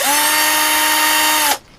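A power drill with a 6.5mm bit runs at a steady high whine for about a second and a half, then cuts off abruptly.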